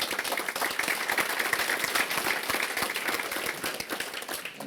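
A seated audience at a regional chamber family-owned business recognition event claps steadily, a dense even round of applause that keeps going throughout.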